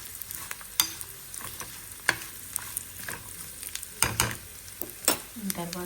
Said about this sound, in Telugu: జీడిపప్పుని కూడా కొంచెం లైట్గా ఆయిల్లో ఫ్రై చేద్దాం.